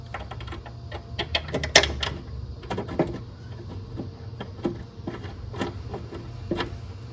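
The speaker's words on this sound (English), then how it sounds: "Let's go ahead and put some the bolts back in it." Bolts being started by hand into a passenger-side engine mount on a second-generation Honda CR-V, a close run of small metallic clicks and taps, scattered and irregular, with a low hum underneath.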